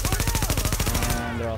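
Rapid automatic gunfire in Tom Clancy's The Division, a steady burst of close, loud shots at an even fast rhythm that stops abruptly and leaves a ringing tail.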